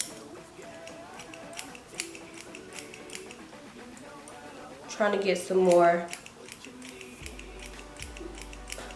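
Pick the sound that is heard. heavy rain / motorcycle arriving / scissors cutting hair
scissors cutting hair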